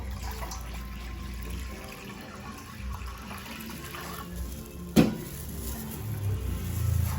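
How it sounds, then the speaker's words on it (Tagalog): Water runs steadily from a tap into a cooking pot for a fish soup, a soft continuous splashing stream with a brief clunk near the end as the flow picks up slightly. "Lagay natin ang tubig."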